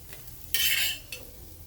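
Crisp potato slices fry in a small amount of oil in a pan, with a faint background sizzle, one sharp scrape from turning or stirring, and a softer follow-up touch.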